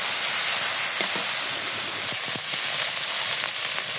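Spice paste with salt and turmeric sizzles steadily in a hot pan for a village-style koi fish curry with green banana, a continuous loud frying hiss with faint scraping stirs.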